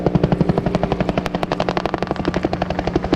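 Bell UH-1 Huey helicopter at an air show battle reenactment, a loud rapid rhythmic rotor chop pulsing steadily throughout with sharp gunfire-like bursts mixed in, no speech.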